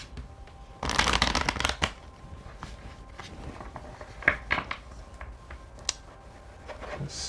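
Oracle cards being shuffled by hand, with one loud riffling burst followed by softer card slides and taps, close and with no voices.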